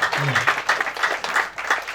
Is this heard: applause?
yes